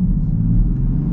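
Land Rover Defender engine, a low steady rumble with a soft rush of air intake and faint turbo noise, heard briefly from close by.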